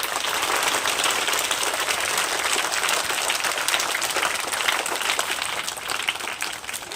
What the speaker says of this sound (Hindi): भाई अर्पित के नाम की धीरे से सब बच्चे ताली बजा दें।